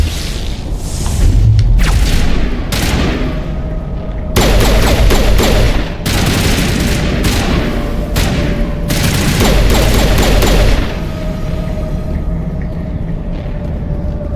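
Mass Effect Legendary Edition combat, loud bursts of rapid gunfire broken by short pauses, with booming explosions of shot canisters and low rumble between volleys.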